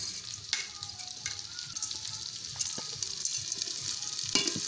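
Fried moong dal stirred into crushed ginger in a pan for Gobindobhog rice khichuri, producing a continuous bright sizzle with occasional soft scraping strokes.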